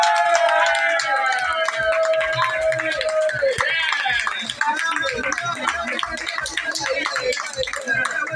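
An audience claps at a speaking event, a dense patter of hand claps that runs steadily for several seconds while voices carry on over it.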